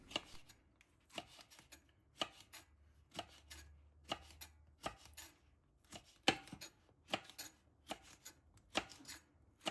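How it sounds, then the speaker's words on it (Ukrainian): A knife chops hot peppers steadily on a cutting board, about a dozen crisp strikes in an even rhythm, close and clear with quiet pauses between. "Беремо перець та нарізаємо його."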